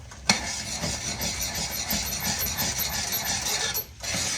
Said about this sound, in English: Stir it real fast in there.